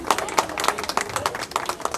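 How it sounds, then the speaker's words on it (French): A small audience claps for a participant at a head-shaving charity event for sick children, giving quick, uneven, fairly close handclaps over a short burst with some crowd murmur. "Bonne main d'applaudissements pour Matt."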